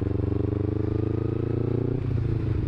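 A motorcycle engine runs with a steady pulsing thrum, then its revs drop sharply near the end as the clutch is pulled in, close and moderately loud.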